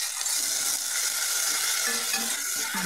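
A masala paste of ground dried chilli, char magaj and poppy seed with sugar sautés in a pan, a soft, steady sizzle with faint scraping and stirring noises throughout.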